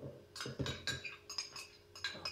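A metal spoon clinks repeatedly against a container while cream is added to a gelatin ice-cream dessert, several quick, close, bright taps in an irregular rhythm, quiet and without speech.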